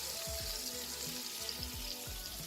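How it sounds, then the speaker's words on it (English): Bacon sizzling steadily in a pan for keto fried rice with Chinese sausage, a constant dense crackle with faint low stirring movements underneath, nearby and without voices. "So here's the bacon, stirring, twisting or listen"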